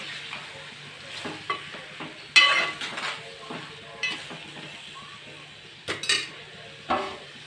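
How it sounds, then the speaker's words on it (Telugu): A spoon stirs chili powder into food in a cooking pot, making soft scraping and a few sharp metal clinks against the pot over a faint sizzle, with irregular strokes and no voices. "కారం వేసాక మంచిగా నీట్గా కలిపేసి పెట్టేస్తున్నాను"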